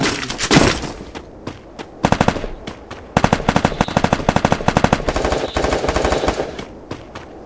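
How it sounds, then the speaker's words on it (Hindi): SCAR assault rifle firing in the mobile game Free Fire: rapid bursts of automatic gunfire, loud and close, separated by brief pauses and repeating several times. "गलती से कौन सी गन चली गई है स्कारल"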